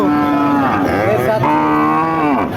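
A cow at a cattle market before Eid sacrifice lows in one long, loud, close moo that bends in pitch, with nothing else competing.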